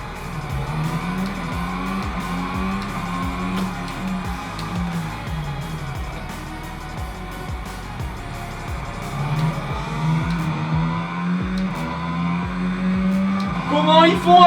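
An F1 car engine whines at high revs around the Monaco Grand Prix circuit in a racing simulator game, with rapid gear-shift pulses and rising pitch as the car accelerates, loud and steady, with tire squeal near the end.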